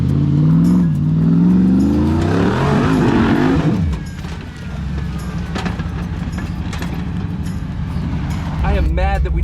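A Hemi-powered Jeep engine at full throttle climbing an offroad obstacle, roaring loud and close as the revs rise, then dropping to a rougher labored drone, with people talking and shouting over it.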